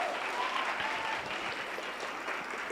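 A church congregation claps after a baptism service, a steady wash of applause filling the room for a few seconds with no talking over it.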